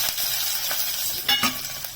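Half a spoonful of mustard seeds hitting hot oil in a home kitchen while making godhuma rava upma, a steady crackling sizzle with a couple of sharper pops near the end, close and fairly quiet.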